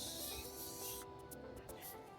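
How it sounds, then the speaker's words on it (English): A short burst of non-stick cooking spray hisses for about a second, followed by a few quick puffs, all against a soft background hum. "A little non-stick spray."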